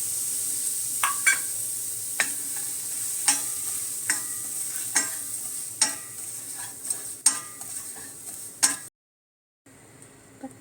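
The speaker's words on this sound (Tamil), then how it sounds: "இந்த ரவையை வறுக்கணும்." Semolina being roasted in ghee in a pan for a sweet filling, with a repeated scraping stir of a spoon against the pan over a faint, steady sizzle; the sound stops near the end.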